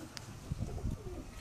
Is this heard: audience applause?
no